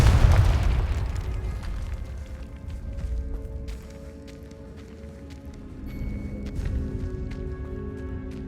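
The Confringo fire spell in Hogwarts Legacy bursts with a deep booming blast, then rumbles and crackles down into a low ongoing drone.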